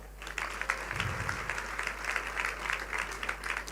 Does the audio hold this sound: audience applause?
yes